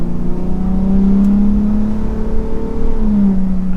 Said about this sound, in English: I will say the EcoBoost sounds really good.